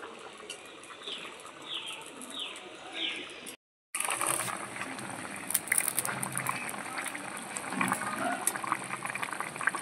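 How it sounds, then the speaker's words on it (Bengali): Fried pabda fish going into a simmering pot of potato and pointed gourd curry gives a steady bubbling sizzle of liquid, briefly cut off, then returning louder with light clatter and splashes close by. "আলু আর পটলগুলো সেদ্ধ হয়ে গেছে। ভেজে রাখা মাছগুলো দিয়ে দিচ্ছি।"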